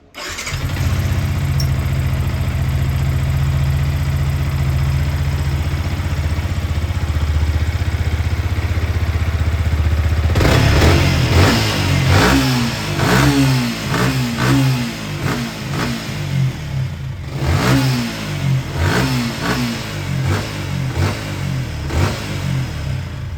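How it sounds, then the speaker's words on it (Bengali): A Yamaha R15 V3 motorcycle, freshly serviced, cranks and settles into a loud steady idle, then revs repeatedly in sharp bursts that rise and fall close by. "আর আমরা গাড়িটা স্টার্ট করে দেখি।"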